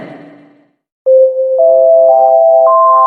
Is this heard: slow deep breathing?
no